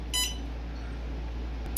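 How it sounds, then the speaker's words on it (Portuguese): A single short electronic beep from an environmental monitoring system's buzzer, which beeps every 10 seconds, sounds near the start, faint against a quiet hum, followed by a brief second blip at the end. "E o buzzer emite um bip a cada 10 segundos."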